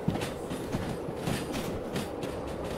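Train rolling along the track in a VR video game, a steady rumble with faint rhythmic clicks recurring roughly every half second, moderately loud and continuous with no voices.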